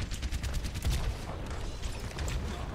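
Rapid bursts of turret gunfire in the video game Overwatch, loud and close, with dense overlapping shots rattling for the full few seconds and no talk over them.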